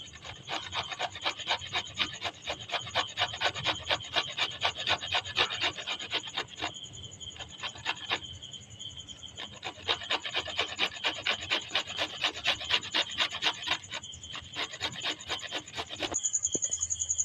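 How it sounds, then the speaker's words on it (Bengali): Ginger and garlic rubbed against a grater, a close rhythmic rasping of fast repeated strokes that pauses briefly once or twice before resuming, with no voice. "আদা রসুনটা আমি গ্রেট করে দেবো"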